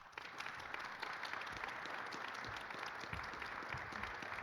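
Warm, steady applause from an audience at a community event, a continuous dense wash of clapping, fairly distant and soft, holding evenly throughout.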